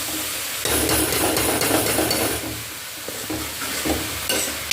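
Onions frying in a pan, a close hiss with a burst of vigorous scraping stirs early on, then a softer sizzle with occasional spoon scrapes.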